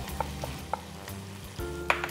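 Chicken sizzling on a grill right after being flipped halfway through cooking: a steady, close crackle with a few sharp pops and clicks, and no voices.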